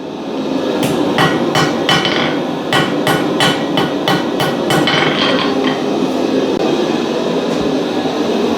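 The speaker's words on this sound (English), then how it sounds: "If I want to whack forge something, I can do that across the anvil face" Hammer blows ring out on an anvil face while metal is forged, about a dozen sharp, loud strikes in quick uneven bursts over the first six seconds, then a steady background hum continues alone.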